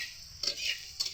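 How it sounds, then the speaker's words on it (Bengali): Potatoes frying lightly in a pan for a snail (googly) dish, heard as a soft background sizzle broken by a few brief scraping, stirring clinks of a utensil against the pan. "আলুগুলোকে ভালো করে কিন্তু একটু ভাজা ভাজা করে নিচ্ছি হালকা করে"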